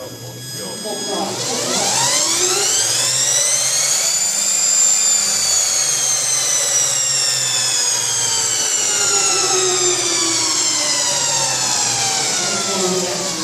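An electric Ford 8N tractor from a high school shop revs in neutral: its motor whine climbs steeply into a loud, sustained jet-like howl with layered rising tones, and voices sit faintly beneath it.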